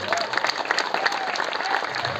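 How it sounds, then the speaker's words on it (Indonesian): An audience at a Balinese calonarang comedy performance at a village crossroads in Tusan, Klungkung, breaks into brisk, continuous applause, a dense patter of many hands. "pohon berangan tepuk tangan untuk kita semua"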